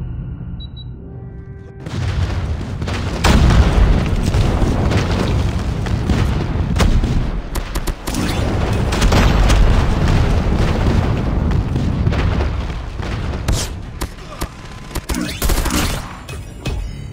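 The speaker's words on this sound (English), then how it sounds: "Friendly airstrike incoming." An airstrike in a Call of Duty Mobile match on the Rust map sets off loud, rolling booms and rumbling blasts that pile up one after another and sustain a heavy roar for many seconds, then taper off.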